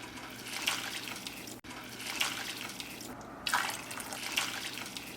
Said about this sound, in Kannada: ಸೊ ಅದಕ್ಕಾಗಿ ನಾನು 4 ಕಪ್ ಆಗುವಷ್ಟು ಬಿಸಿ ನೀರು ಆಡ್ ಮಾಡ್ತಾ ಇದ್ದೇನೆ.